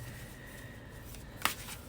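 A deck of cards shuffled by hand during a card-pulling reading: soft continuous riffling close by, then one sharp snap as the cards come together, with no talking.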